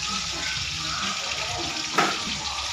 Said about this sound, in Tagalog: Siyempre, lagyan po na konting tubig yun